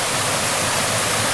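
A waterfall at the Subway on the Left Fork of North Creek in Zion National Park roars with a loud, steady, dense rush of water and no other sounds.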